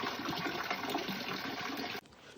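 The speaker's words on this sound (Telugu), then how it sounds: "ఇంత పెద్ద రాయి లోపల నుంచి వాటర్ వస్తున్నాయి" Spring water pours steadily out of a big rock, a dense continuous rushing splash that cuts off sharply near the end, leaving faint trickling behind.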